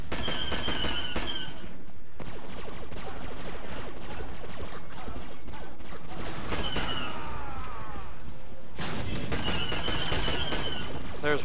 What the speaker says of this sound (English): They'll most likely start shooting at me